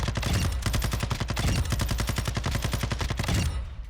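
A light machine gun in Warzone 2.0 fires a fast sustained burst of about twenty-five evenly spaced shots, loud and close, and then cuts off abruptly.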